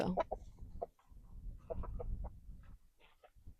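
Chickens cluck in short, irregular calls on an off-grid homestead, close but fairly quiet over a low outdoor rumble, with a few sharper clucks near the start and end.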